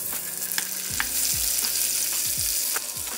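Egg frying in a small knob of butter in a hot pan sizzles with a steady crackling hiss, punctuated by a few sharp pops and low sliding tones from the pan being moved.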